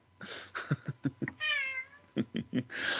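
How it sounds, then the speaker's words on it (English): A house cat named Artie meows several times close by, short chirpy calls, then one long drawn-out meow, then a few more quick ones. "my cat Artie just off screen"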